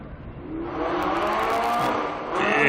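A historic race car at the Estoril Classics meeting, its engine note climbing and holding high as the driver works the throttle on track, loud and close, with a harsher rise at the end.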